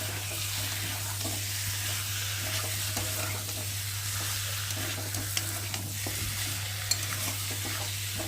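Chicken kosha with tomato sizzling steadily in a pan while being stirred, a constant close frying hiss with faint scraping and a low hum underneath, no talking.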